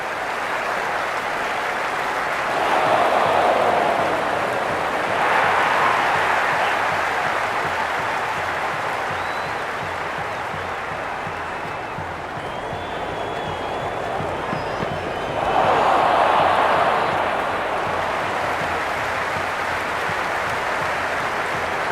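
A cricket stadium crowd at a Sydney Sixers versus Melbourne Stars match roars and applauds in a continuous loud wash, with several swells of cheering rising and falling, and a commentator's voice talking over it.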